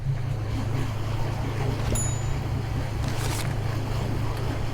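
A sailing yacht comes into the marina at Ryn in the Masurian lakes, with a steady low motor hum over wind and water noise throughout.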